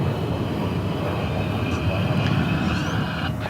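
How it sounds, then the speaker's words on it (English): An airliner, flight 9733 to Seattle, rolls for takeoff at DFW Airport, its engines a continuous broad roar with a whining tone, heard at a distance under faint talk. "Flight 9733 to Seattle is rolling there."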